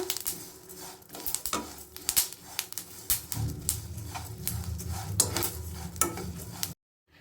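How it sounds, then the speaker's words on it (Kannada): Seeds roasting in a pan with stirring and utensil scrapes, sharp crackling pops scattered throughout over a steady low sizzle, close and moderately loud, then cutting to silence near the end. "ನೋಡಿ ರೋಸ್ಟ್ ಮಾಡ್ತಾ ಇದ್ದೀನಿ ಸೌಂಡ್ ಬರ್ತಿದೆ ನೋಡಿ ಸಿಡಿಸಿರೋದು"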